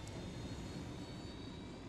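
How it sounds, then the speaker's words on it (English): Helicopter in the Ghost Recon Wildlands video game, Narco Road DLC, a steady loud rotor and engine roar filling the whole two seconds with no talk. "I'm gonna spawn in a helicopter and then we're gonna fly near them"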